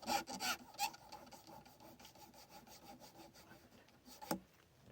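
Rope being sawed against itself to cut it, a repeated rough rubbing and rasping with uneven strokes, close and moderately quiet, louder bursts at the start and a sharp scrape near the end.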